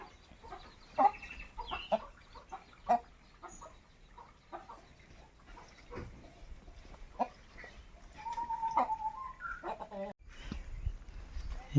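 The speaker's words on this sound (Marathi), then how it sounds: "देवा कोंबडा पूर्ण देशी कोंबडा" A native desi rooster at a hillside village farm gives scattered clucks and short calls, close by and fairly faint, with people talking intermittently in the background.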